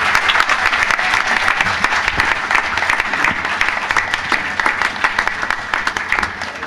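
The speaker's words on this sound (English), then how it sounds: "You all can give a louder round of applause for the musicians." Audience at a bhajan festival applauds the musicians with a loud, sustained, even burst of clapping that fills the whole stretch close up.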